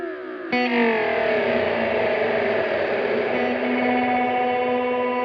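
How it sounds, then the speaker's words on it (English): Guitar through an Old Blood Noise Sunlight reverb pedal set for slapback delay, one loud distorted chord struck and left to ring with dense echoing repeats and a washy reverb tail, with no talk over it. "if we turn this rate knob up, you start increasing the time of the delay, and it'll get more slapbacky"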